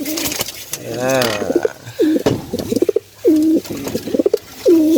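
A pigeon coos nearby in several loud, repeated throaty phrases with short gaps, alongside some wing or handling noise early on.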